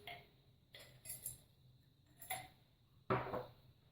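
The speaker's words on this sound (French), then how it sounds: "Et enfin de la noix de muscade que je vais râper" A whole nutmeg is rubbed against a grater in a home kitchen, giving a few short, quiet rasping strokes spaced out over a few seconds, the last one slightly louder.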